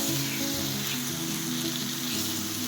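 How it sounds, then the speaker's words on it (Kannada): Tomatoes sizzle steadily in a hot pan as they fry for a spicy tomato chutney, a close, continuous crackling and hissing with no talk over it. "ಇವಾಗ ಇವ್ರನ್ನ ಚಂದ ಫ್ರೈ ಮಾಡ್ಬೇಕ್ರಿ ಇವಾಗ ನೋಡ್ರಿ ಚಂದ ಫ್ರೈ ಆಗ್ಯಾವ ನೋಡ್ರಿ ಟೊಮೆಟೊ ಹಣ್ಣು"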